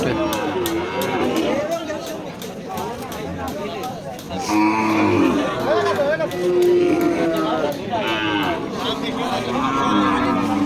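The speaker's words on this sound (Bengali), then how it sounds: "গাই বাছুর সহ বিক্রি হয়" Cows with calves moo repeatedly at a crowded sunny cattle market, long drawn bellows from several animals rising over a busy murmur of talking people.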